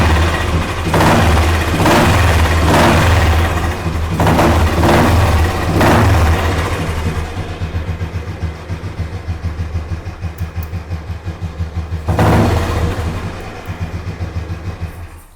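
A Royal Enfield motorcycle fitted with a flap exhaust idles nearby, a loud, steady low thump that swells with several throttle blips early on, then settles to a quieter idle before one more short rev near the end.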